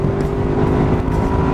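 A Honda motorcycle engine revs loudly and close by in a steady, sustained drone with no pauses, and nobody talks over it.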